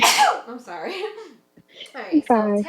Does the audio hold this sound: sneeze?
yes